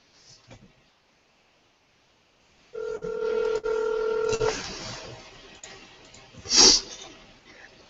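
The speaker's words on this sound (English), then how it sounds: "So Jenna, I'm going to go ahead and give you a call" Electronic telephone dialing beeps sound in a short sequence after a moment of near silence, followed by a soft ring on speakerphone and a faint breath nearby.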